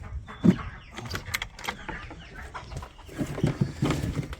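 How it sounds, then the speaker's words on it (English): Frizzle chickens cluck and murmur nearby in short, scattered bursts, with a few louder squawks and some rustling. "Get out of here, birds. Stay back. I don't want the frizzles to come out."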